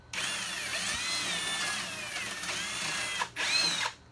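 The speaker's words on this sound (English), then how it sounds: "Let's drill it out." A power drill bores through a wooden sandbox board, a steady close whine that dips and rises as the bit loads up, then briefly cuts out before a final high-pitched burst as it breaks through.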